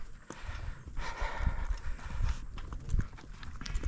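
Horse hooves clop and shuffle on the ground while a roping horse moves around and balks a little, close and irregular with no speech.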